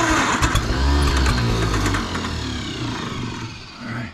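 A John Deere 440C bulldozer engine is cranked and sputters as it tries to start, a loud, close, rough rumble that surges and then fades near the end.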